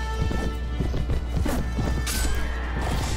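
Horse hooves pound in a Mount and Blade battle, rapid loud clip-clop galloping under clashing combat noise, with occasional sharp impacts and a neigh.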